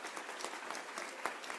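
Audience applauding at a youth program closing celebration, a steady wash of dense clapping from a crowd with a few sharper claps standing out, moderately loud and sustained throughout.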